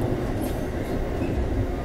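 An Amtrak passenger train rolls along the rails, heard from inside the car as a continuous low rumble with faint rhythmic wheel noise and a brief higher squeal.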